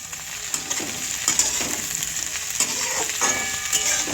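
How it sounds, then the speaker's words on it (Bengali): Potatoes, onion and garlic fry in a pan with a close, steady sizzle. Soft stirring scrapes and knocks repeat every half second or so, and no voice is heard. "আলু আর পেঁয়াজ রসুনটাকে আমি একটু ভাজা করে নেব"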